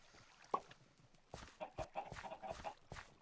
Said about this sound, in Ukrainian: Ось та сама ферма курей.